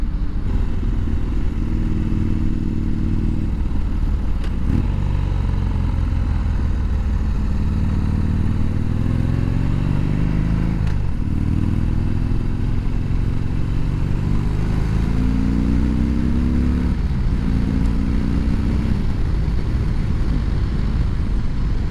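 A motorcycle is ridden at speed, its engine droning loud and steady close by, with rising tones as it shifts and accelerates through the gears, mixed with road and wind rumble.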